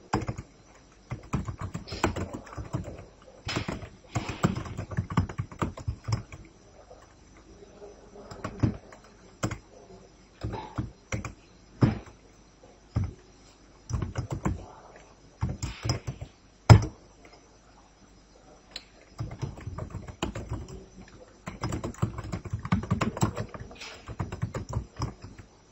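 Values are typed into an SQL table on a computer keyboard in bursts of quick, close key clicks separated by short pauses, with no voice over it.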